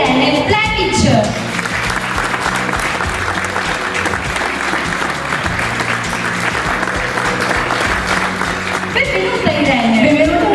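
Applause from a pageant audience welcoming a co-host onto the stage at a Miss Lady Veneto beauty contest, loud sustained clapping filling the hall, with a voice and music rising over it near the end.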